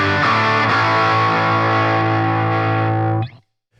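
Electric guitar played through a Fender Champion 50XL amp on its overdrive setting, a loud saturated chord ringing out for about three seconds before being cut off abruptly.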